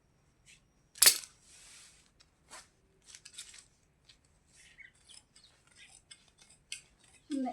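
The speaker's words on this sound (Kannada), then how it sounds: "ಈ ಥರ ಸ್ವಲ್ಪ ಬಿಟ್ಟುಬಿಟ್ಟೆ ಕಟ್ ಮಾಡ್ಕೊಳ್ಳಿ" Scissors cutting blouse lining cloth: one sharp loud snip followed by a scatter of quieter, irregular clicks and rustles of fabric in a quiet room.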